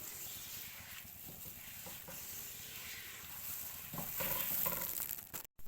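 Quiet steady sizzle and hiss of besan barfi mixture with milk powder cooking in a pan, with soft scraping stir strokes that grow a little louder near the end.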